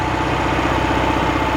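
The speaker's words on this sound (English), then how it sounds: "The tractor is stuck deeply." A tractor stuck deep in mud on a flooded Yakutian road runs steadily with a loud, low, even engine drone and no speech.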